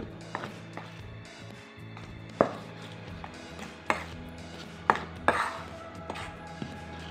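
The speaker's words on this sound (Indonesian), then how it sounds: "Ini kita aduk-aduk." Medium-protein wheat flour with baking powder and baking soda is stirred in a bowl, giving faint scraping with irregular light taps and clicks against the bowl.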